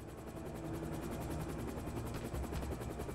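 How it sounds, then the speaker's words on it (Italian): Assault helicopter in the video game Syphon Filter: Logan's Shadow: steady, fairly faint rotor thumping with a fast regular pulse over a continuous engine drone, unbroken for the whole stretch. "Elicottero d'assalto!"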